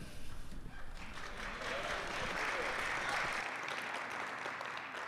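Audience applause for an MC returning to the stage at a live community event in Akron, a thick wash of clapping mixed with crowd noise that holds steady before thinning out near the end.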